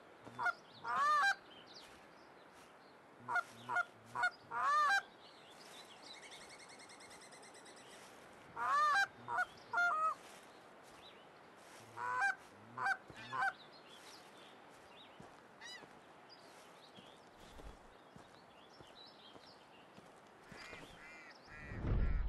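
Geese honk in Hunting Simulator 2 in a forest setting, with several clustered bursts of nasal calls at moderate distance, then sparser honks over a quiet outdoor background.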